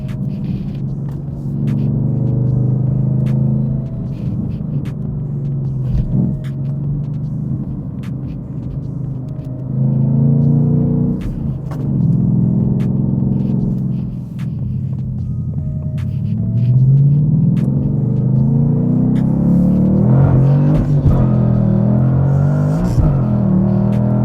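A 2018 Ford Mustang with a manual stick shift drives along, its engine giving a steady low rumble and hum that rises and falls with gear changes, building toward the end.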